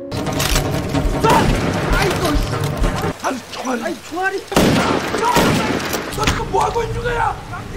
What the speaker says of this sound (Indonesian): mendengar suara tembakan shotgun yang sangat amat keras